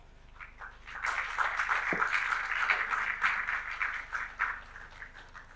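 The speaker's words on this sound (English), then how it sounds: "Can we also have another round of applause for Miss Priscilla?" An audience at a brain health and mental well-being conversation event gives a round of applause, a steady mid-level wash of clapping lasting several seconds with no talk over it.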